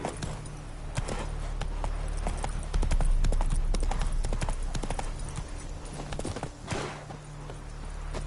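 Roach, Geralt's horse in The Witcher 3, gallops with a steady, close clip-clop of hooves that runs the whole way through over a low rumbling backdrop.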